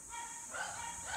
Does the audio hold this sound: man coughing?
no